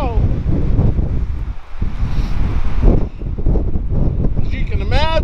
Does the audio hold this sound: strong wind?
yes